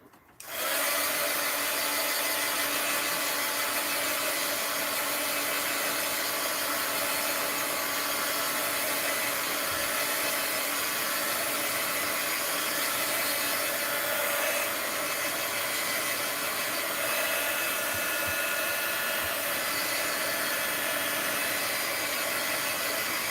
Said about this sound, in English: Let's hit the stencil with the heat gun, dry it off a little.